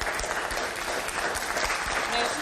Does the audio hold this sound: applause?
yes